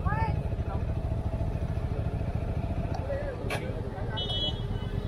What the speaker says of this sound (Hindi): अभी गाड़ी आ रही है दोनों तरफ से